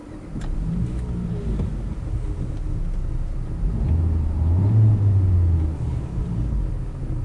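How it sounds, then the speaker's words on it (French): A new Dacia Duster runs and pulls away on a bumpy roadside, its engine a steady low rumble that swells into a brief rev midway before settling, heard alone without talk. "on va mettre en route ce véhicule et on va aller rouler un petit peu"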